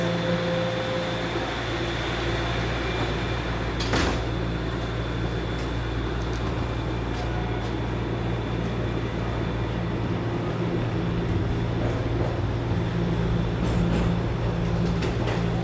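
A Toronto subway Line 1 train, six cars long, hums and rumbles steadily and loudly at a northbound platform, with a brief knock and faint rattles over the constant drone and no speech.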